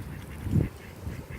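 Wild ducks quack and honk while being fed, one louder honk standing out briefly over softer, nearby calls.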